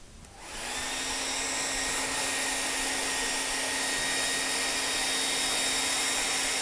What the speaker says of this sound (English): Even when you turn the air dryer sideways, because the high pressure from the air around the column of air being left from the air dryer is holding the ball in place